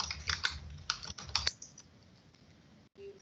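Fingers tapping a computer keyboard to enter a username, a quick close burst of clicky keystrokes for about a second and a half, then quiet with a few faint taps.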